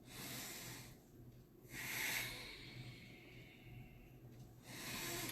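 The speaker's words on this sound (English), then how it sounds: "you breathe from the very bottom of your lungs all the way to the very top of your lungs" Deep pranayama breathing fills the lungs from bottom to top in slow airy hisses: a long exhale, a pause, a strong inhale, another pause, then a fresh breath, close and without talking.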